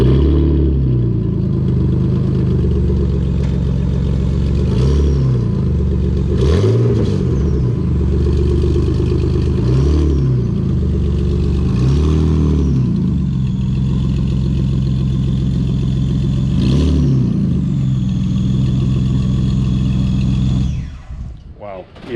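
A car engine runs close by, revved repeatedly in short surges over a steady idle, then cuts off abruptly at the end.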